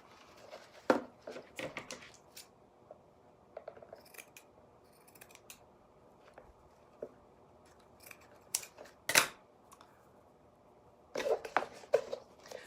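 Scissors snipping through a piece of lace, sparse crisp cuts in small irregular bursts at close range with quiet gaps between them and nobody talking.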